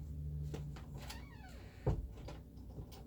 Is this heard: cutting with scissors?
no